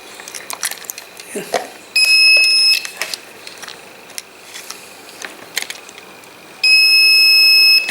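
Two sharp, piercing beeps from a digital multimeter in continuity mode while probing a diode on a mobile phone board, the first lasting under a second and the second slightly longer, with a person talking between them.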